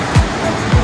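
A waterfall on the Annapurna trek in Nepal roars as a steady, loud wash of rushing water, with two brief low thumps breaking through.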